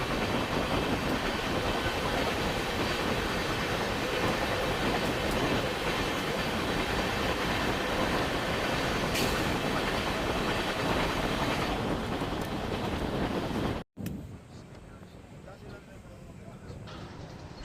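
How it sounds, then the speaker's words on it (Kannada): A Bikaner–Yesvantpur bi-weekly express train rolls on its rails into Chikkabanavar Junction station, a loud continuous rumble with clattering and a brief high wheel squeal, then quieter near the end. "ನಮ್ಮ ಟ್ರೈನ್ ಈಗ Chikkabanavara junction railway station entry ಆಗ್ತಿದೆ"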